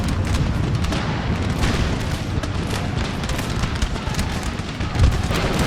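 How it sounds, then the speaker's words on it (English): Cannon fire from an artillery battery in the video game Empire: Total War, a dense continuous rumble of booms and gunfire with one sharper blast near the end, loud and unbroken with no talk. "We got the artillery going off."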